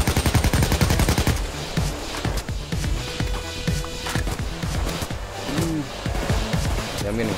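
Sustained automatic gunfire in the Payday 2 video game, a dense rapid rattle of machine gun bursts with heavy loud shots throughout and voices speaking under the din.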